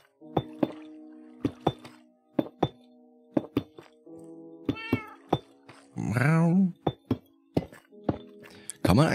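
Cats in the Minecraft video game meow several times in short, separate bursts between clicking block and game sounds.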